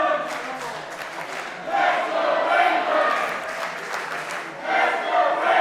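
A wrestling crowd at the Banking Hall roars and cheers in surging waves, a dense wash of voices that swells, dips and rises again with no single voice standing out.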